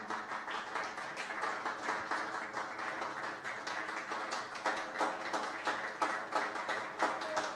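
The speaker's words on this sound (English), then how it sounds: "And I think you should give CORA and LABAF a round of applause." Audience applause fills a forum hall at a book festival, a steady wash of many hands clapping with scattered sharper claps and no speech over it.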